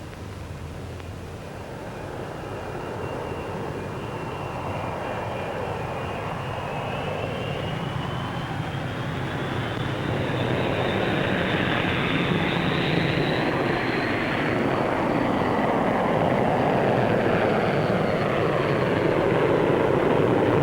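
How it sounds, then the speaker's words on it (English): Avro Vulcan jet bombers taking off at the Farnborough air show, a loud, steadily building engine roar that swells and rises over about twenty seconds, heard alone with no voices. "Here we see the first two Vulcans taking the air."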